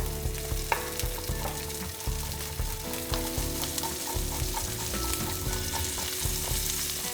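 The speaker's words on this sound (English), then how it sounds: "Add sizzle sound." Steady loud sizzling of food with garlic frying in a hot pan, with occasional clinks and stirring sounds throughout.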